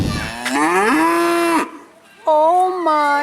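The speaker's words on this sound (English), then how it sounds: "You're gonna give us another moo?" A cow on a hillside farm gives two loud, drawn-out moos close by, the first long and sustained, then a short pause before a second, wavering call.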